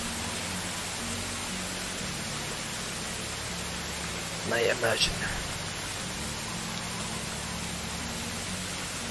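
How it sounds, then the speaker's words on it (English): Steady broadband hiss of rain falling in the medieval farming game Medieval Dynasty, even and continuous throughout, with someone speaking briefly midway. "There's rain now."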